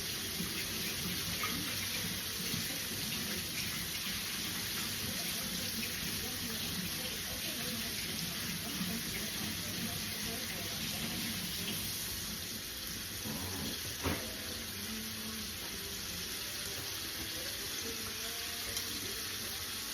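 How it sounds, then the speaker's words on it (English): Water runs steadily from a tap as hands are washed under it in a kitchen during fried chicken cooking, a continuous broadband rush lasting throughout with a brief clatter partway in and faint voice underneath. "So let me wash off my hands."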